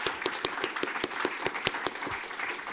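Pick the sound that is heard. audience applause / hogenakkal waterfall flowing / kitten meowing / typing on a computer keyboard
audience applause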